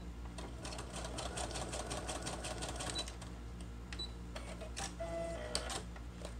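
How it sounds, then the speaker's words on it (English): A sewing machine stitches down the edges of a paper patchwork wallet, with a fast steady mechanical clatter over a low hum, pausing briefly and starting again, heard up close with no voices. "I'm looking for any edges that haven't been sewn down and making sure that those all get sewn down nicely."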